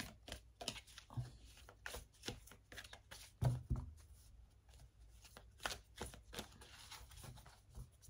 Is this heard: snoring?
no